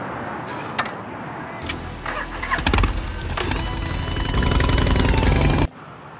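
A motorcycle engine cranks and catches, then revs and runs loudly and steadily up close for several seconds before cutting off abruptly.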